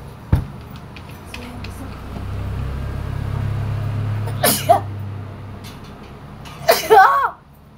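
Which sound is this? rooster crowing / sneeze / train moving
sneeze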